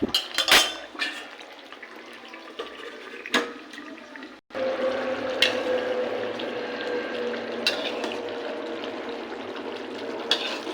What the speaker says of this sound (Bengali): গ্যাস কমিয়ে ঢাকা দিয়ে রাখবো।